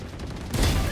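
Gunfire in the first-person shooter Valorant, a brief loud burst of shots cutting in about halfway through a second of game sound.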